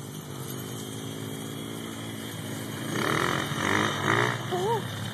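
Dirt bike engine revving hard during a wheelie on a valley trail, a loud rising and falling snarl that swells near the end over steady background engine drone and a voice.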